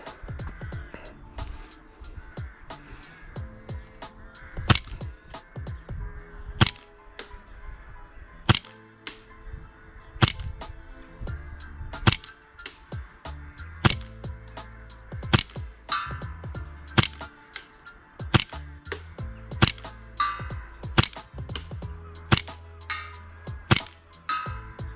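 Hi-Capa custom airsoft pistol firing repeated shots at outdoor targets, sharp snapping cracks spaced irregularly, some in quick pairs, over about twenty-five seconds with faint background noise between them.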